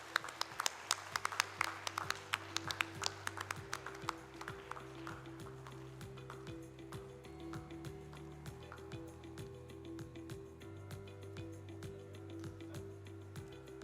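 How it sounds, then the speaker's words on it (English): Applause rings out for the star achievers at a 2022 graduation ceremony at Soundarya Institute of Management and Science, with a dense burst of clapping over the first few seconds that thins and fades beneath a steady hum. "A big round of applause to all the star achievers."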